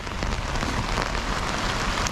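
Steady rain pouring down during a storm in Los Angeles, a dense, continuous hiss of drops striking surfaces nearby, fairly loud and unbroken throughout.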